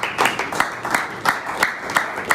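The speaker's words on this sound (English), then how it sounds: "please a round of applause for yourselves" Audience at a youth empowerment program in Oyo State clapping in a loose, sparse patter of individual claps, moderately near, with no speech over it.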